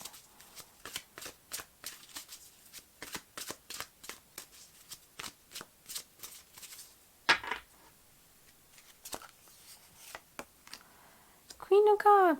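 Tarot cards being shuffled in a long run of regular riffling flicks, close and crisp, then a few single cards drawn and slapped down, followed by a short burst of voice.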